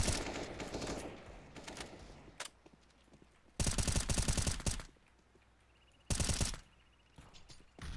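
Bursts of video game gunfire: two loud, rapid automatic volleys about a second each, separated by quieter stretches with faint mechanical clicks and a few isolated shots.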